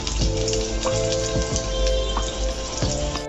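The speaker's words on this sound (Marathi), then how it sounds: "आता मी दुसऱ्या वड्या तळून घेते" Leftover chapati vadas sizzle steadily in hot oil, a dense crackling hiss broken by small pops and spatters throughout.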